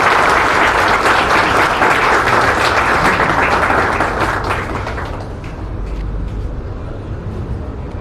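An audience gives loud, sustained applause for the chief guest at a lecture, thick clapping that holds steady and then tapers off over the last few seconds.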